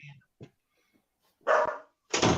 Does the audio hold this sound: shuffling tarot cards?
no